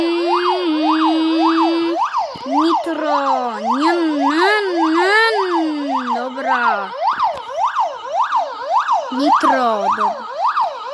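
A loud wailing siren cycles rapidly up and down with a steady rhythm, alongside a lower warbling tone, with no voices.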